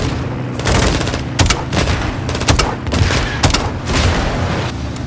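Light machine gun fire in Call of Duty: Modern Warfare II, loud, rapid bursts of automatic shots with booming impacts, repeating in clusters over several seconds amid battlefield noise.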